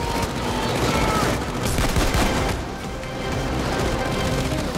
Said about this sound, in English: Oh, Taser's shooting me.